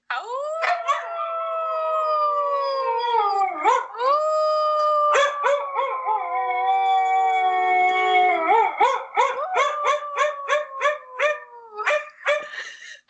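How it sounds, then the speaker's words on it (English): A dog howls in long, wavering, sustained notes close by, then breaks into a run of short yips and barks toward the end. "I have a video I took of my dog howling at sirens outside"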